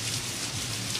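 Steady hiss of heavy rain pouring down indoors inside a store, a dense continuous patter with no voices, close and even throughout.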